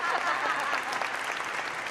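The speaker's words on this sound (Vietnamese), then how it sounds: "Nói tóm lại các bạn hay, vỗ tay." A television talent-show audience breaks into sustained applause, a thick, even patter of many hands that carries through the whole stretch without letting up.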